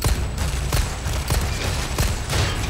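Rapid volleys of gunfire in the Resident Evil 4 Remake, sharp repeated shots popping every fraction of a second over a constant rumbling background, loud and close with no talk.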